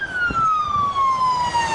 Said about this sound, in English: that's just a police car